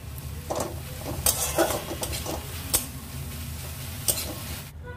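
Fenugreek greens stirred in a pan after the lid comes off, with soft scraping and a few sharp clinks of a utensil against metal over a faint sizzle.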